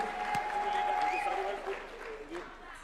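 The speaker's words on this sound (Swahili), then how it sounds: "Makofi kwa Leader of Majority." Faint crowd applause at a UDA National Executive Committee meeting, clapping for the Leader of Majority. It is fairly soft and diffuse, with a voice speaking over it.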